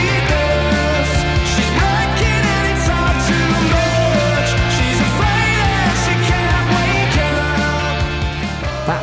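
A song plays steadily and loudly with full band instrumentation throughout.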